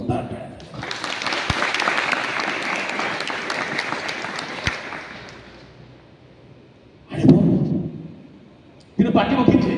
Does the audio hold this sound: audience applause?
yes